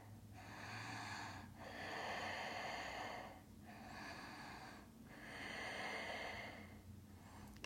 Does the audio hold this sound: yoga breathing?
yes